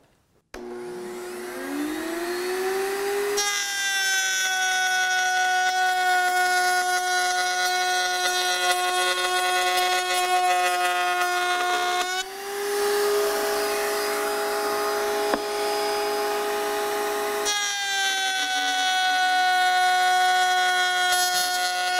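Router spinning up and cutting a dovetail pass in wood, a loud steady high whine that starts with a rising pitch, runs continuously with brief dips in tone, and keeps going without talk.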